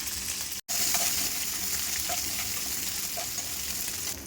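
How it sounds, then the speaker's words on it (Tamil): Dried chillies, green chillies, curry leaves, asafoetida and onion frying in hot oil, a steady close sizzle with occasional faint stirring clinks and no voices. "காய்ந்த மிளகாய், பச்சை மிளகாய், கொஞ்சம் கறிவேப்பிலை, கட்டி பெருங்காயம், வெங்காயம் போட்டுக்கலாம்."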